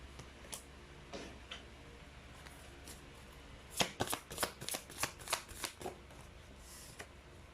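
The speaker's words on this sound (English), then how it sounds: "let's try to pull up another set of cards" A deck of oracle cards is shuffled close by: quiet handling at first, then a quick run of crisp riffling bursts in the middle before it settles again.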